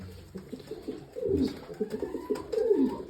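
Pigeons coo nearby in soft, throaty bursts, several overlapping calls repeating irregularly with no talking.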